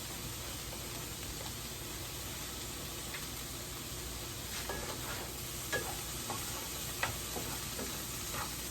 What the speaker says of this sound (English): it's hot enough, so we're gonna go ahead and let that fry